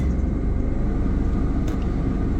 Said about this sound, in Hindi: चले जी, गाड़ी हो गई है स्टार्ट